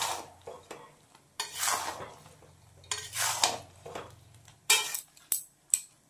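A metal spoon scrapes and clanks around a cooking pot as ingredients with turmeric are stirred and mixed, in several bursts of scraping separated by sharp taps against the rim.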